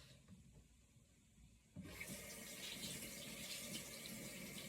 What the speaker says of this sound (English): I gotta wash my hands so I can turn this camera off